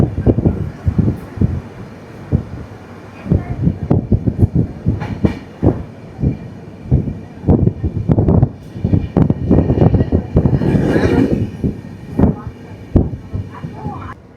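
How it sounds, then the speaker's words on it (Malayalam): A train pulls out of Channarayapatna station on the Bangalore to Mangalore line, its wheels clattering in loud, irregular clicks and thumps close by, with wind noise and a voice talking over it. "അങ്ങനെ ചെന്നരായപട്ടണയിൽ നിന്നും നമ്മുടെ ട്രെയിൻ ഇതാ എടുത്തു."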